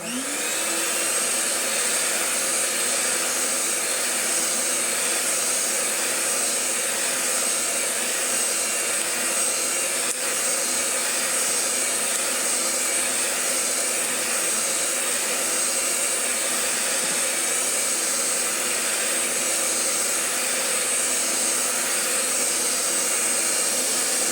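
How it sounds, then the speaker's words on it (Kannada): Whipping cream and sugar being blended for homemade chocolate ice cream, a loud, steady motor whir running continuously and alone without a break. "ಇದನ್ನು ಇವಾಗ ನೀಟಾಗಿ ಬ್ಲೆಂಡ್ ಮಾಡ್ಕೊಳ್ಳೋಣ. ಶುಗರ್ನ ನೀಟಾಗಿ ಬ್ಲೆಂಡ್ ಮಾಡ್ಕೋಬೇಕು ಇದು ವಿಪ್ಪಿಂಗ್ ಕ್ರೀಮ್."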